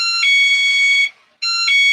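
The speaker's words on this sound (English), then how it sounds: "That's my alarm." A driveway motion alarm sounds in two loud electronic chime bursts, a bright sustained tone separated by a brief pause, close and alone.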